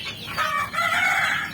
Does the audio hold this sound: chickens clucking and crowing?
yes